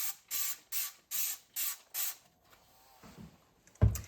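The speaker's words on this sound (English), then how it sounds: "So we're just gonna spray it." Dawn Power Wash dish soap sprayed onto steel wool in six quick, even hissing bursts, close and loud, followed by quiet handling and a sharp knock at the end.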